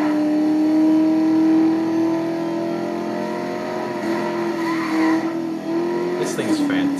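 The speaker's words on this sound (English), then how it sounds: "It's turbo noise, all right." Steady engine drone of a Mercedes-Benz SLS AMG in Need for Speed: Most Wanted, with a sustained tone, a whooshing turbo rise near the end, and a voice talking over it.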